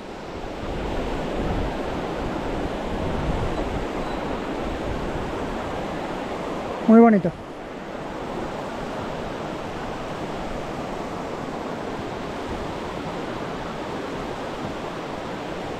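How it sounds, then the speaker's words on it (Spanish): A glacial river with milky, mineral-laden water rushes through Hokitika Gorge in New Zealand, making a constant broad roar that fills the whole stretch. A voice briefly speaks partway through. "Tenéis todo el río que baja del glaciar, con el agua lechosa de los minerales."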